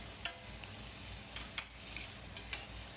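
Onions sautéing in a pan give a faint, steady sizzle, broken by a few sharp scrapes and taps as they are stirred, close and without talking.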